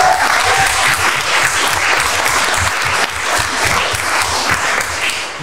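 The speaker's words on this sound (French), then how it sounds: "Je pense qu'on peut l'applaudir." An audience at a general assembly of a young lawyers' bar association applauds continuously, a dense, loud and close wash of clapping lasting several seconds with no voices over it.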